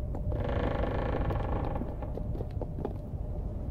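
Creaking from an old Victorian London house in the video game The Cave: a sustained, loud groaning creak for nearly two seconds, followed by quieter scattered creaks and knocks over a low rumble.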